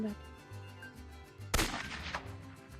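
A loud burst of gunfire in the video game Goose Goose Duck erupts partway through, a sharp blast with a noisy tail, over a steady rhythmic game soundtrack.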